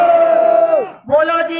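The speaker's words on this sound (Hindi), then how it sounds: "सभी एक बार मेरे साथ जयकारा लगाएंगे" A crowd at a gathering for Shivanand ji Maharaj roars a loud jaikara chant in unison, one long sustained shout that fades, then a second burst rising right after.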